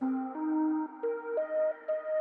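A soft, muffled synth melody plays a few sustained notes stepping upward, mellow and dull-toned, with no voices.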